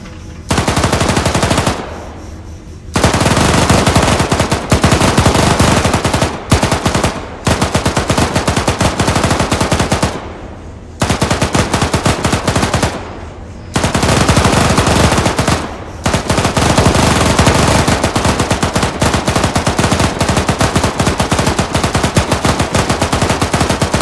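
Coaxial machine gun on a vehicle in Arma 3 firing long, loud sustained bursts of rapid rounds, broken by a few short pauses, continuing nearly throughout.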